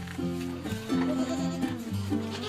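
Goats in a farm pen in Lampung, Indonesia bleat repeatedly in several overlapping calls, loud and close, with a few spaced bleats over a quiet barnyard background.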